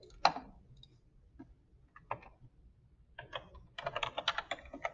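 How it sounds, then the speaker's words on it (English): Equations are typed into the Desmos graphing calculator on a computer keyboard: a few isolated clicks at first, then a rapid, close burst of crisp keystrokes toward the end. "And you can type your equations in."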